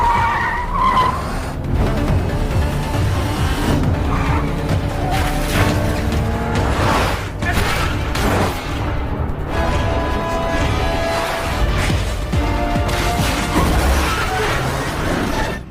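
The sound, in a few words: cars skidding and crashing in film car chase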